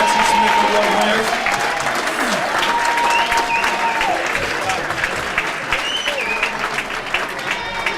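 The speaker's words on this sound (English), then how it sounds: "Let's have a nice big round of applause for the Jackson Smith Award winners." A banquet crowd at a bowling hall of fame induction dinner gives sustained applause for award winners, loud and steady throughout and slowly tapering, with some voices mixed in.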